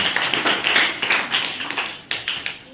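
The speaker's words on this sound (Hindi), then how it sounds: "इनके लिए ताली बजाओ भाई, दोनों के लिए" A classroom of students clapping hands, a loose burst of close, sharp claps in an uneven rhythm that thins out and stops after a few seconds.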